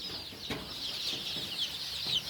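Young local desi chicks cluck and cheep softly in a small rearing pen, a faint continuous chorus of high chirps with occasional scratching taps.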